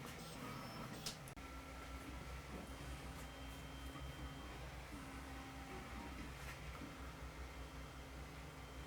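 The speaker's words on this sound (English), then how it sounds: "for right now, we'll watch our other printer here in action." A 3D printer prints a Clever mount part in a home workshop, giving a steady, continuous whir with sustained stepper-motor tones that shift pitch now and then, close by and even in level throughout.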